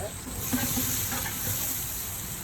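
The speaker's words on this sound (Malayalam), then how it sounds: "ഇനി നന്നായിട്ടൊന്ന് ഇളക്കിയെടുക്കാം." Onion and crushed garlic with ginger fry in a pan while being stirred, a soft steady sizzle with faint scraping strokes of the spoon, fairly quiet and close.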